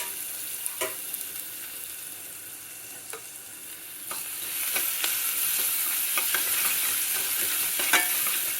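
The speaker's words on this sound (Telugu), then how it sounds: "ఇప్పుడు ఎల్లిపాయలు వేసుకుందాం" Garlic sizzles in hot oil in a pan while a spoon stirs it, with sharp scraping clicks over a steady frying hiss that grows louder and busier partway through, no voices.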